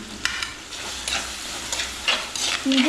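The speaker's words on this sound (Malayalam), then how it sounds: "ഇനി വെളുത്തുള്ളി ഇടാം." Garlic sizzles in hot oil in a pan for a Kerala-style sardine fish curry, a steady frying hiss broken by scraping stirs of a spoon against the pan, close and clear with no talking.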